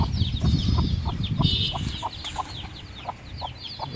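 Double-body big-breed chicken chicks cluck in a busy flock at close range, with repeated short calls over a steady low rumble of movement.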